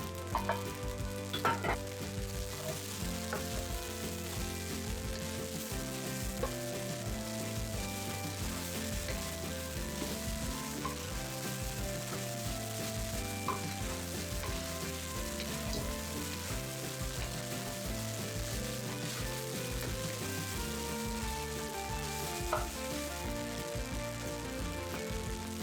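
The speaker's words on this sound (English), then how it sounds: "Now add the scrambled eggs and mix well." Egg fried rice with scrambled eggs being stirred in a pot, a steady soft sizzle with scraping and clinks of the utensil running throughout, fairly quiet and with no talking.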